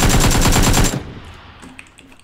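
In the video game PUBG, a rapid automatic burst of gunfire rattles loudly for about a second, then cuts off into quiet with a few faint clicks.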